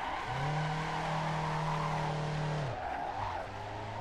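A Nissan Skyline R34 in the racing game Assetto Corsa holds a loud, sustained engine note that drops off, then tires squeal and skid as the car drifts, with no voices.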